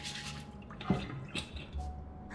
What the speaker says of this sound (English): Sounds like something's preventing the toilet from flushing.